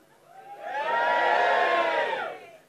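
A comedy club crowd at a stand-up set lets out a single loud cheer and whoop that swells over about a second, holds, then fades, with no talking over it.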